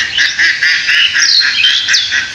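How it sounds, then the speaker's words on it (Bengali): Ducks quack and honk in a noisy, overlapping chorus, several birds calling close by in quick bursts. "এখানে হাঁসেরা খেলা করতেছে সকালবেলা"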